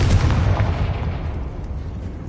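A Confringo fire spell blasts in Hogwarts Legacy on PS5, a loud booming explosion that rolls off into a long rumbling decay, with no voices over it.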